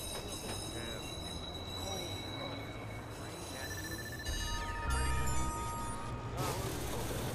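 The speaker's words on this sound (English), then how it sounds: "Southbound train arriving shortly." A train pulls into a station in the Watch Dogs video game, a low rumbling roll with high squealing wheel tones and bell-like ringing that surge louder in the second half.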